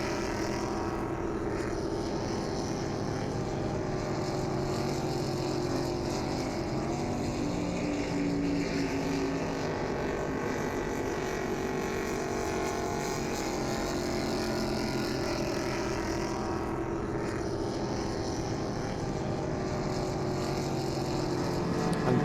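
Loud, steady engine roar of racing powerboats speeding past during a regatta in Trinidad and Tobago, a dense droning rumble that holds nearly constant throughout.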